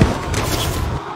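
A loud, close explosive blast in a battle royale video game, one heavy booming burst with a rumbling tail that cuts off after about a second.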